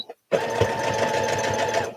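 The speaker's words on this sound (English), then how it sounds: "I don't have like an automatic thread cutter with this machine" A home sewing machine stitches steadily in a near, even mechanical whir after a brief pause, running alone for under two seconds.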